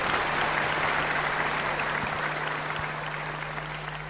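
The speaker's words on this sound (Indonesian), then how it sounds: "Boleh berikan tepuk tangan untuk beliau." A hall audience claps for Puan Maharani, Speaker of the Indonesian House (DPR RI): sustained, even applause from many hands, fairly loud and unbroken, easing off gradually over a few seconds.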